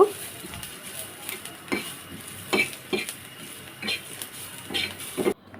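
Onion and dried red chilies fry in a pan, a soft sizzle under intermittent spatula scrapes and clinks against the metal, close and moderately quiet.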